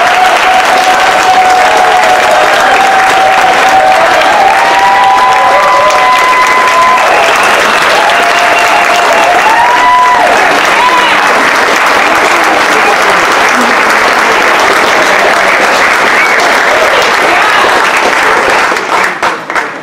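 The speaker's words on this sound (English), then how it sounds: "The 2019 Live United Awards honorees, please stand up for a final round of applause." Sustained loud applause from an audience honoring award recipients at a community awards celebration, steady and dense for nearly twenty seconds, with faint voices and cheers mixed into the clapping before it begins to thin at the end.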